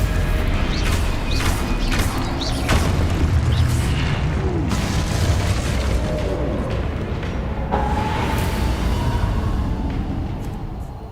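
Stupefy spell effects from Hogwarts Legacy on PS5 land in a run of loud booms and crashes with creaking, mechanical rattles, punctuated by sharp bursts over continuous in-game noise.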